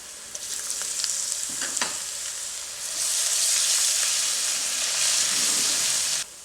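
Ginger garlic paste frying in oil gives a bright, hissing sizzle that grows louder and fuller halfway through, with a few stirring scrapes.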